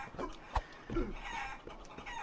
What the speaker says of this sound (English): I just beat a chicken.